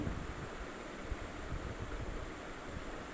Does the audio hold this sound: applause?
no